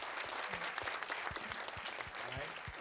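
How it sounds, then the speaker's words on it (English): Applause from an audience at a school fifth-grade quiz challenge event, steady dense clapping throughout with faint voices and low thumps underneath. "Let's give another round of applause for Ms. Carolyn Burgadas."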